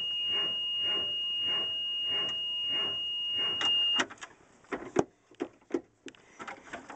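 BMW 335 on a cold start, its starter cranking in an even rhythmic churn of about eight pulses with a thin warning tone above it, then breaking into irregular clanks and knocks, fairly quiet and with no talk.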